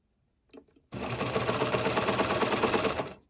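Sewing machine stitching binding onto a t-shirt neckline: after a couple of soft clicks, a fast, even mechanical rattle runs for about two seconds close up, then stops abruptly.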